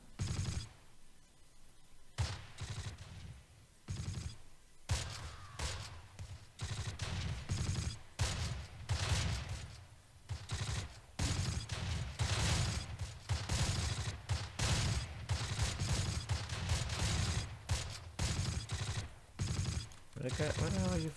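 Gunfire in the Close Combat video game, with repeated rifle and machine-gun bursts crackling in uneven volleys over about twenty seconds, loud and close, while someone talks intermittently.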